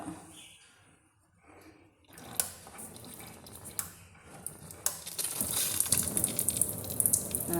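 Water trickles from a kitchen sink tap, starting after a quiet opening and building into a steady, close splashing wash with small clinks and drips.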